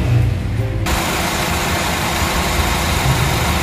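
A 2010 third-generation Honda CR-V with a 2000 cc engine idles smoothly and steadily, loud and close, with a low, even hum that keeps going after a short thump near the start.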